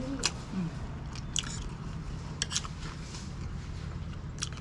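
Biting and chewing crispy fried pork: several sharp crunchy bites spaced through the clip over a steady low background hum, close and fairly quiet.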